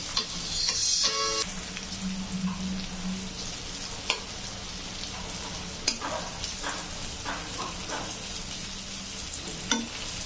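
Sweet pumpkin frying in a pan, a steady close sizzle with a few scraping stirs and light clinks, and no voices.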